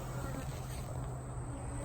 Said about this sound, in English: So the bees, there's a lot of foragers coming back and trying to get in, but they're blocked.